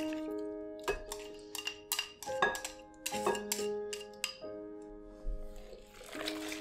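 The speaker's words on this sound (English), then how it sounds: "Mix the shrimp into the meat." Shrimp is mixed into a meat filling in a bowl, making a string of bright metallic clinks and taps of a utensil against the bowl with soft wet squishes between, close and fairly quiet, no talking.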